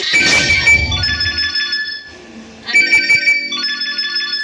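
A mobile phone ringtone plays loudly and close for an incoming call, an electronic melodic tune with a bell-like sparkle that breaks off briefly and then resumes.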